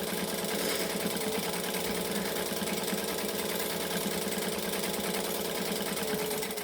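Sewing machine stitching a vinyl crossbody bag, a steady continuous mechanical whir with fast rhythmic needle clatter at moderate level throughout, with no voices.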